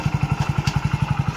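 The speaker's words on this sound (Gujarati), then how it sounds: "ચાલુ કરો બાઈક" Motorcycle engine running close by with a rapid, even thumping idle and no breaks.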